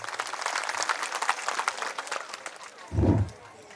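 Applause breaks out at a Chaure family reunion gathering in Babhulne, a broad crowd of clapping filling the hall, swelling briefly near the end over a low burst.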